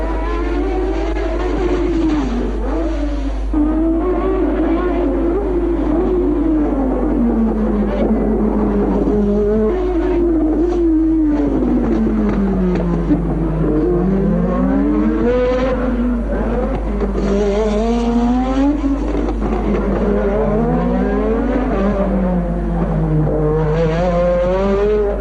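Formula One race cars at Monaco during the 1983 season, including the Parmalat Brabham and a Renault, with engine whines that rise and fall repeatedly as the cars accelerate and brake through the corners, over a steady low hum.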